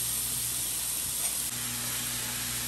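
Steak meat sizzling on a stove top, a steady, even hiss of frying that holds without pause for the whole stretch, with no talking.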